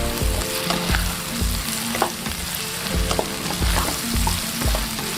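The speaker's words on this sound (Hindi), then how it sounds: "प्याज़ों का रंग डार्क ब्राउन होने तक इसको भूनेंगे।" Chopped onions, about 200 grams, frying in oil for chana pulao until dark brown, with a steady close sizzle and recurring scrapes and knocks of stirring roughly every second.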